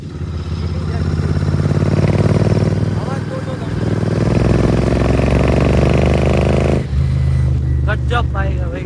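A motorcycle engine runs steadily at close range with a continuous low drone, and someone talks over it throughout.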